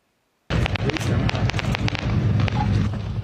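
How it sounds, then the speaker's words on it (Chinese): Fireworks set off at the Wuling parking lot on Hehuan Mountain in Taroko National Park, bursting in a rapid, dense barrage of loud pops and booms, continuous after a brief silent start. "火光四射烟火冲向天顶"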